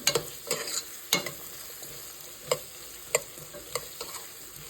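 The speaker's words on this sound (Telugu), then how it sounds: "ఆనియన్స్ బాగా వేగుతాయి, త్వరగా వేగుతాయి" Onions fry for vankaya curry in a pan, a soft continuous sizzle punctuated by several sharp, close scraping stirs at irregular intervals.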